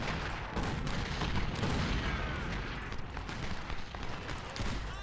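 Artillery pounds a tree line in a strategy video game, a continuous dense roar of overlapping booms and cracks at steady moderate loudness for several seconds.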